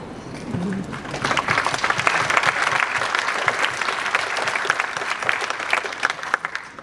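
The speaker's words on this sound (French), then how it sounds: "je pense que vous pouvez même vous applaudir" Large audience at a talk applauds warmly, with a thick, sustained roar of many hands clapping that swells after the first second and holds steady.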